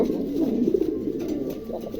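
Soft, low pigeon cooing murmurs continuously, close by, with a steady warbling hum and no talk.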